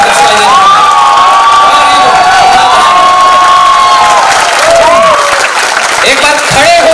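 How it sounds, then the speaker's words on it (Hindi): A loud crowd at a comedy drama record event in Lucknow bursts into applause and cheering, with shrill whoops and shouts riding over dense, continuous clapping throughout. "एक बार तालियां इतनी जोर से बजनी चाहिए कि बाहर तक सुनाई दे"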